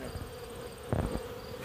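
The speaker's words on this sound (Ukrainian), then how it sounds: "Бджоли достатньо, ви бачите, по льоткам" Honey bees hum around the entrances of a six-frame hive in winter, a low steady buzz with a couple of brief louder bumps close by.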